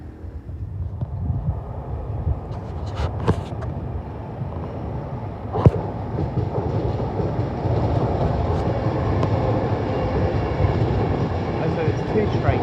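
Two trains pass at Primrose Hill in London, a deep, continuous rail rumble that swells and holds, with a couple of sharp metallic clicks over the roar.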